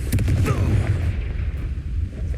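A Confringo fire spell blasts in Hogwarts Legacy, a loud booming burst with crackling rumble in the opening second that fades into a low sustained roar.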